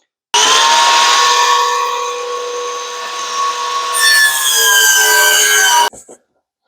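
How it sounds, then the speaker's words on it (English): A power saw with its fence set cuts 2-inch wood pieces for a frame in one loud, steady whining cut lasting about five seconds. Its pitch shifts partway through, and then it stops abruptly. "We're going to cut out our 2 inch pieces."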